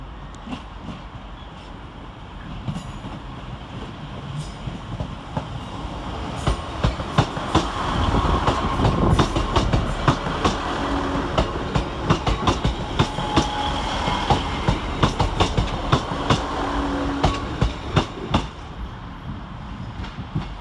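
A pair of Northern Class 150 diesel units pull out of Manchester Piccadilly toward Buxton, engines throbbing as wheels clatter rhythmically over rail joints, growing louder and busier, with faint squeals near the end.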